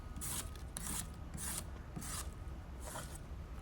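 A Spyderco Swayback knife with a hollow-ground Wharncliffe blade slices thick cardboard in about five short, scratchy rasping strokes, close and evenly spaced, with no talking.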